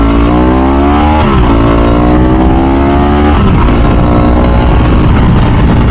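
A Ducati 996 SPS motorcycle engine revs hard and close, rising in pitch twice with a sharp drop between pulls, then settling into a loud rough idle.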